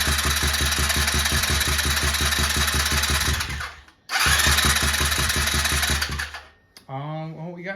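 Rebuilt small engine being cranked over: rapid rhythmic pulsing chugs for about four seconds, a brief pause, then another burst of cranking that cuts off, followed by a voice speaking nearby.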